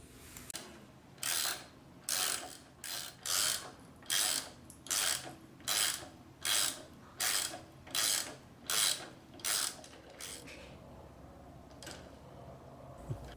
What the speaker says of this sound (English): I drill and tap a piece of scrap aluminum angle